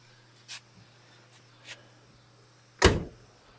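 A solid car door on a 1980 Chevrolet Camaro Z28 thunks shut once, preceded by a few faint clicks and light handling noises in a quiet space.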